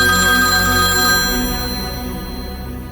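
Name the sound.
phone ringtone ringing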